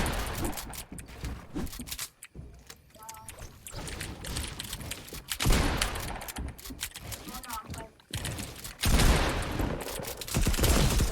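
Rapid gunfire bursts from an attack SMG in the video game Fortnite, Chapter 2 Season 4, crackle in repeated loud volleys with short gaps, mixed with game effects and a voice talking over the action.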